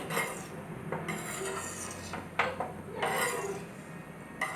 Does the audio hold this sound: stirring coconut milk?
yes